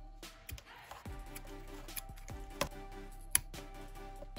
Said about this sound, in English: And then I'm gonna snip away the excess on these ties